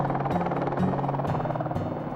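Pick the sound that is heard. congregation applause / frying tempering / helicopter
helicopter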